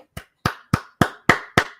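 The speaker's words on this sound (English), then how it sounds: "All applause, man." One person clapping six sharp, separate times at a fairly even pace, close and loud in a quiet room.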